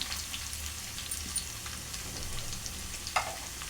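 Cashews and cumin sizzle in hot oil in a pan while tempering for Katte Pongal, a soft steady frying hiss with occasional stirring scrapes and one sharper clink near the end, close and fairly quiet with no talking.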